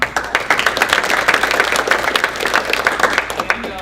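Rotary club members at a meeting applaud together, a steady, close round of clapping that continues throughout with no talk over it.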